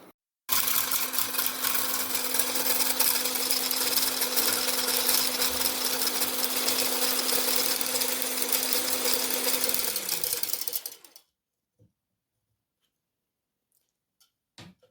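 A steady whirring motor hum of an electric mixer whipping at low speed runs continuously for about ten seconds, then cuts off, leaving near silence with a few faint clicks.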